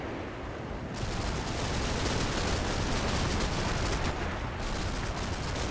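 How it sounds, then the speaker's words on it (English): Artillery spotting rounds in Combat Mission: Battle for Normandy, a continuous loud roar of heavy fire and blasts, close and dense, swelling after the first second and holding steady. "Sounds more like it's for our spotting rounds."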